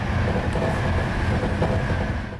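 A train rolls along the track in the Polish railway simulator game SimRail, a steady, loud rumble of wheels and carriages passing close by for a couple of seconds.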